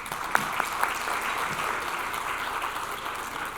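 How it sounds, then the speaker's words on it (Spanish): Audience applause at the close of a clinical medical lecture session on acute infections, a steady, moderately distant wash of clapping from a room of attendees that carries on evenly throughout, with a few sharper individual claps standing out near the start. "también un fuerte aplauso a la doctora Carreteras"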